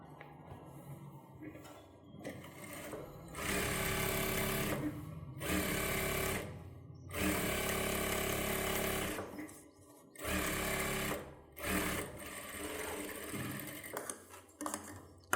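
Sewing machine stitching a child's silk pattu pavadai, running in several loud bursts of steady whirring with short pauses between, close up.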